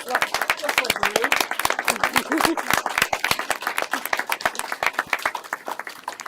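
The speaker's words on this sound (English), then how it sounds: "to stand up and have a big applause." Audience at a county press conference on a homes campaign applauds in a sustained, dense burst of clapping that stays steady and close throughout.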